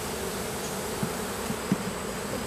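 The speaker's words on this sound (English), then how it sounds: "a lot of the older bees will come back to this hive." A dense, steady drone of many honey bees buzzing close together at a hive, with a few soft taps and bumps against the hum.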